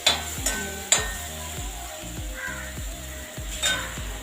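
Mustard seeds splutter in hot oil in a village kitchen, sending out a steady sizzle with sharp pops and regular scraping stirs, close and fairly quiet, with no voices.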